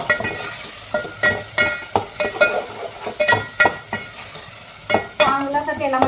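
Vegetables fry in oil with whole spices while being stirred, so loud sizzling mixes with repeated scraping and clinking strokes of a spoon against the pan in an uneven rhythm.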